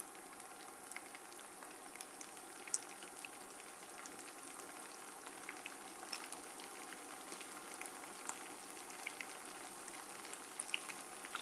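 Shrimp for gambas al ajillo sizzle softly in a slightly too-small pan, a steady fine crackle and hiss with scattered pops throughout, faint and fairly distant.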